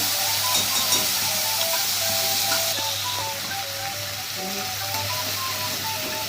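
Ginger, garlic and tomato paste fries in hot oil with cumin and bay leaf, giving a dense, steady sizzle and hiss close by, with faint rhythmic clicking underneath.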